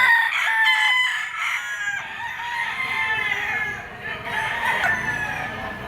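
A yellow-legged banderado stag gamecock crows loudly and close by, in a long drawn-out call that carries through most of the moment.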